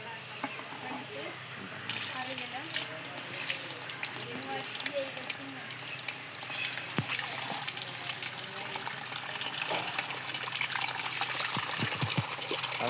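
Water gushes and splashes steadily into a guppy fish tank, getting louder after a couple of seconds and running continuously while people talk nearby.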